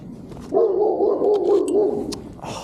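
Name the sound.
dog barking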